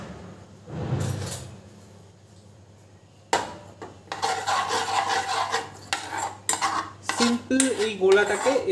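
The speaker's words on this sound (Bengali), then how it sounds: "এই গোলাটাকে এবার তোমাদের গ্যাসের ওপর নিতে হবে এবং এমনি করে নাড়তে থাকতে হবে।" A spoon stirs tamarind seed paste in a pot over a gas flame, giving repeated scraping and clinking strokes against the metal that grow louder and busier after a quieter start, with no talk.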